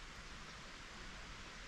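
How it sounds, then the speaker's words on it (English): Steady, soft broadband rush of a stream or river running below a quiet forest trail, a continuous distant wash of water with no talk. "Just the birds and the sound of the river running water from the stream that's just down there."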